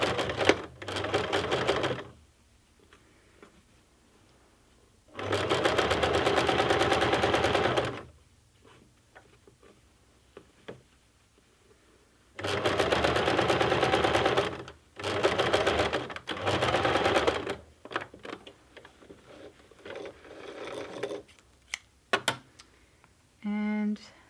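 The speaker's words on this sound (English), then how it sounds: "So now we're ready to sew that folded bit" A sewing machine stitches along a folded cloth edge in several loud, steady bursts of rapid whirring, separated by pauses, while a person speaks between runs.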